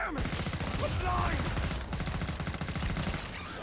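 Rapid assault rifle fire in a video game, dense bursts of shots rattling steadily with impacts and explosions mixed in, while someone talks over the action.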